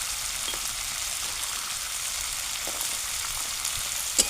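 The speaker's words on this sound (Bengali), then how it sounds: "মটরশুঁটিগুলো দেওয়ার পর ভালোভাবে আলুটাকে আমি সুন্দরভাবে কষিয়ে নেব।" Potatoes and green peas fry in a pan for a vegetarian Bengali aloo dum, producing a continuous, close sizzle with faint stirring scrapes and a brief louder clack at the very end.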